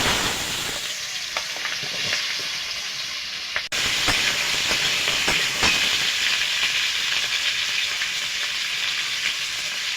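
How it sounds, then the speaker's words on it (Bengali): Potatoes and green chillies frying in hot oil in a wok, a loud continuous sizzle with crackling spits throughout, briefly dipping then surging louder as more goes into the oil. "এই আলুগুলো আর লঙ্কাগুলো দিয়ে দেবো"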